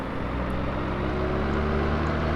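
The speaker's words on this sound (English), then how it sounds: "Could I turn the engine sound down a bit?" A farm vehicle engine in Farming Simulator 17, on the Chellington map, drones steadily and loudly throughout, a dense, unbroken mechanical hum with no talking.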